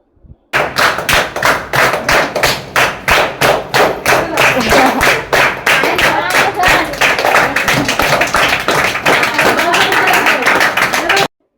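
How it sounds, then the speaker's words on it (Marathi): A group of tuition students applauding their teacher at a home tuition class, dense sustained clapping close by that starts abruptly and runs steadily for about eleven seconds, with many hands overlapping. "सगळ्या स्टुडंटनी माझ्यासाठी टाळ्या वाजवल्या"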